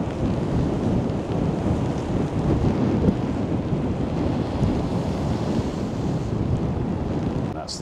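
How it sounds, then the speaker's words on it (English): Huge sea waves crashing at high tide on the Blackpool seafront in freezing, windy weather, a loud continuous roar of surf mixed with heavy wind buffeting the microphone, no voices. "I can see one of these huge waves coming right over."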